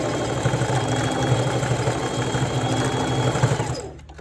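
A sewing machine runs a straight stitch at a steady fast rhythm, close and loud, with a dense even mechanical whir that stops abruptly at the end.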